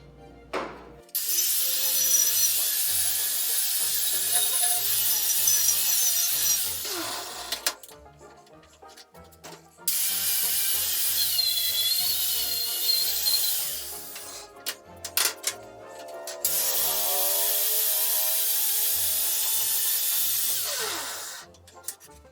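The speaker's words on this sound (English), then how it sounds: "I also wire brushed where the foot was going to be attached" A steel rod is wire brushed for welding prep with a power brush, giving steady loud whirring, grinding bursts with short pauses between passes, close up with no talk.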